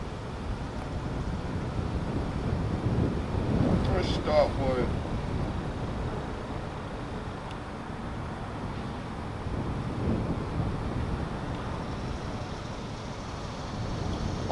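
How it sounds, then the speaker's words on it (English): Steady wind rushes and buffets outdoors for the whole stretch, with a faint voice briefly audible in the middle. "It's hot, but it's a windy hot out here today"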